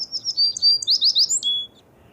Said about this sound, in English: I think that's an American swallow.